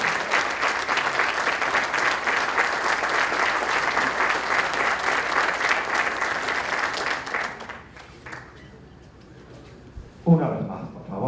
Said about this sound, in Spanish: esas palmas afectuosas de la gente de México son muy fuertes